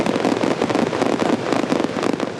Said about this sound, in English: Who's ready for fireworks and the 4th of July?